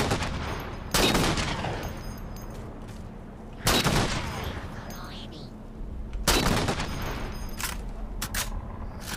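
Three loud, sharp Covenant sniper rifle shots in Halo 4, evenly spaced a few seconds apart, each with a decaying tail and quieter game ambience between them.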